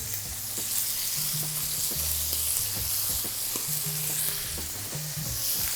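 Steaks fry in a pan with butter, rosemary and thyme, giving a loud, steady sizzle with frequent crackles and spatters, close by and uninterrupted by speech.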